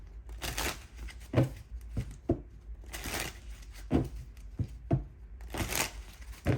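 Tarot cards being shuffled by hand in repeated bursts, a papery riffling and slapping that comes in quick clusters with brief pauses between them.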